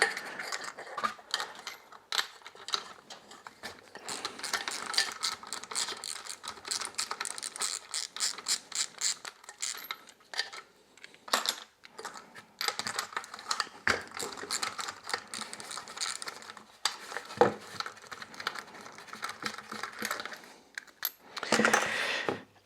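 A hand ratchet clicks rapidly and repeatedly while spark plugs are removed from a Moki 215cc engine during a rebuild teardown, with bursts of metallic ratcheting, brief pauses and small clinks of tools and parts, close up.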